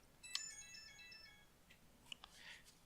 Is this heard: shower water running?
no